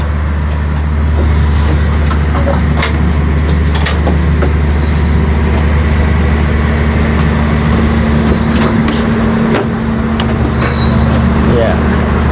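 The Banyubiru Express train rolls into Solo Balapan station with a steady low rumble and intermittent clanks and squeals, heard from on board, with people talking nearby.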